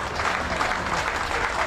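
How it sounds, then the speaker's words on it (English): Crowd applause at a football match between South Shields and Banbury United as a player is substituted, a steady, even patter of clapping from a distance. "Deserves a round of applause."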